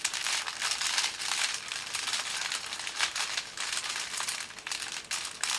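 Kiss cellophane wrapped around three red roses crinkles and rustles continuously as it is handled close up, a dense crackly sheet of sound with no talking.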